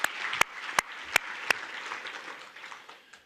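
Audience applause at a Texas high school football hall of fame induction: a brief burst of crowd clapping in a room, with a few sharp nearby claps standing out before it fades.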